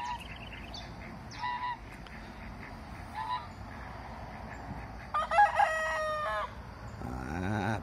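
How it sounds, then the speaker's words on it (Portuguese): A farmyard rooster crows near a herd of cows after milking, several short crowing and honking calls rising at a moderate distance, with a louder, longer crow near the end over quiet outdoor background. "Vamos lá ver o galo ao primo canto, Sadam."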